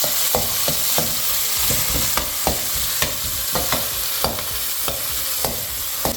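Onion and tomato sizzle in a pan as tempering for a Bangda fish curry, with steady frying hiss broken by repeated sharp clinks and scrapes of a spoon stirring, close and fairly loud, with no talking.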